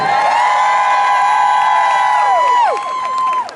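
A large crowd cheers and whoops loudly in long sustained cries that trail off together near the end.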